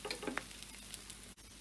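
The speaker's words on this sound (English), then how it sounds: "The other side also I am applying oil. allowing it to cook this side." Aloo paratha cooks in oil on a flat pan, a faint, steady sizzle with a few light ticks and crackles near the start.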